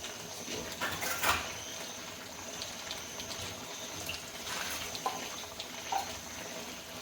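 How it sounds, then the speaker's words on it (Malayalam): Water is poured from a cup into a pan of simmering country chicken curry, a soft, quiet trickle and splash with a few small clinks, and no voice. "ഇനി നമുക്ക് കുറച്ച് വെള്ളം ഒഴിച്ചു കൊടുക്കാം"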